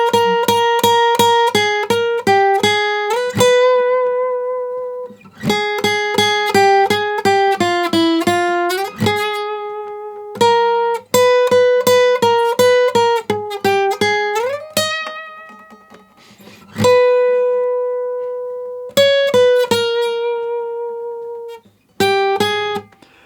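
An acoustic guitar plays the closing section of a piece from Dying Light: The Beast, a plucked melodic line in phrases with short pauses between them, close and clear with no talking.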